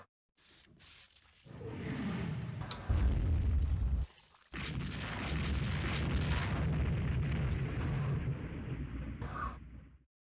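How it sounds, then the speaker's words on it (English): A torpedo striking the warship Blitzau in the naval game Rule the Waves 2: a heavy underwater blast bursts in, cuts off briefly, then a second, sustained roar of surging water and rumble carries on for several seconds before ending abruptly. "Blitzau hit by a torpedo"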